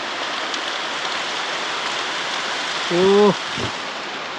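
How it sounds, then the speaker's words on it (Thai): Steady rain falls with wind, a dense, even hiss that continues throughout, with a brief voice exclaiming near the end. "ฝนก็มาบัดนี้"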